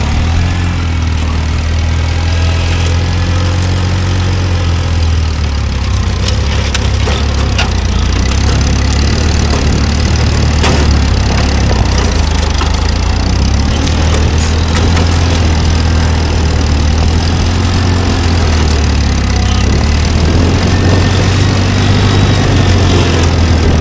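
A Massey Harris Pony tractor with hydraulic lift, weighted wheels and cultivators runs continuously, a loud close steady engine drone with a low throbbing rumble, working in a garden for the whole stretch.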